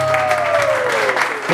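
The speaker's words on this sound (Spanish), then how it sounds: "Y ese aplauso, muy bonito." Guests at a birthday party with a mariachi band break into loud, close applause, a dense continuous wash of clapping with a sustained tone sliding downward beneath it.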